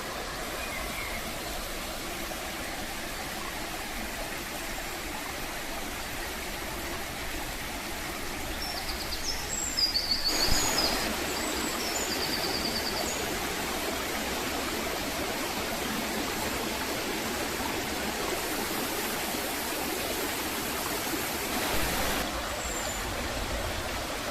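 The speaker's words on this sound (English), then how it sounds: "that's the end of the tail goit from Third Coppice as it flows back into the River Rivelin." Water from the tail goit of Third Coppice wheel pours into the River Rivelin with a constant, close rushing roar that barely changes over the whole stretch.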